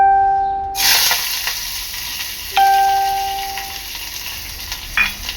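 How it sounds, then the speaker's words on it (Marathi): Curry leaves and onion hit hot oil for a tomato tempering with a sudden loud sizzle that settles into steady frying. Brief electronic beeps sound before and during the sizzling. "सर्वप्रथम टाकणार आहे मी कढीपत्ता आणि कांदा"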